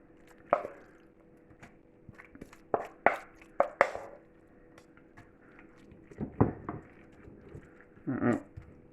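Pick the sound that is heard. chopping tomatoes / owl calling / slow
chopping tomatoes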